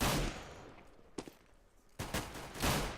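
Gunfire in a Counter-Strike match, including a P2000 pistol, with a burst at the start, a lone shot, then another run of rapid shots, sharp and close.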